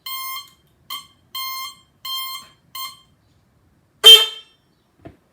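Dashboard beeper on a supercharged nitrous postie bike being tested during wiring harness work, sounding five clear electronic beeps in an uneven rhythm, close and loud, followed by a brief louder buzzy tone.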